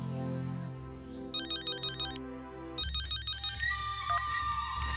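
A telephone ringtone plays a repeating electronic melody over a low musical background, loud and close, with the tones changing partway through and no speech.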